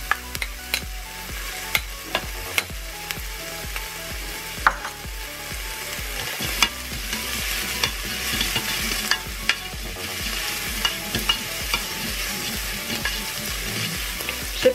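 Onions and garlic fry in a Cookeo multicooker with a steady close sizzle, punctuated by regular scraping and clicking taps of a utensil stirring the pan, without any talking.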